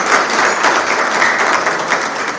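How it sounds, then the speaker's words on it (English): A university anniversary celebration audience applauds its panelists, dense continuous clapping from a large room that holds steady and full throughout, with no voices breaking through. "Let's give our panelists a round of applause"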